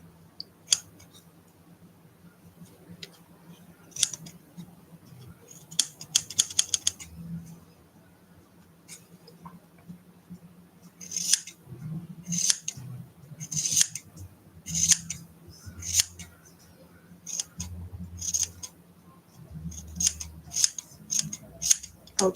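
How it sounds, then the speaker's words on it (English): Hair scissors snip an art doll's hair in a run of crisp, close metallic cuts, some scattered and some in quick bursts, over faint background noise with no talk. "I need to go and get some hair scissors."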